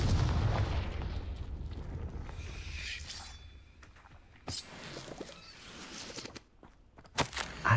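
Confringo fire spell explosions in Hogwarts Legacy, a loud rumbling blast that fades, followed by a few sharper cracks and impacts, with little speech.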